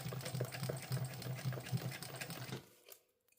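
A sewing machine back stitches a bum bag, running in a steady fast rhythm with strong regular pulses for over two seconds before stopping, then a faint brief rattle follows, close and loud with no talking.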